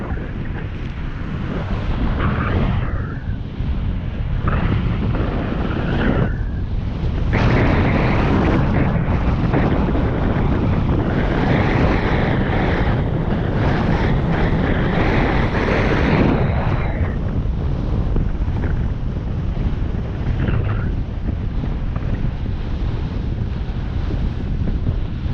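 Wind blasts across the microphone on a highway bike ride, a loud, continuous buffeting roar that surges and dips in gusts with no clear voices.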